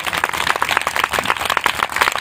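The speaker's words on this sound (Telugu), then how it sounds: "గట్టి కొట్టిన చప్పట్లు వాళ్ళకి అవసరం." Loud, close applause from a church congregation during a Telugu sermon, with rapid, dense clapping that runs without a break.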